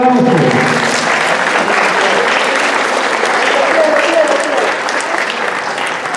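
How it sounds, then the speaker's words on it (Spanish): Loud, sustained applause from an audience of students and parents at a rural school gathering, broad and dense clapping filling the whole stretch with no break. "aplausos"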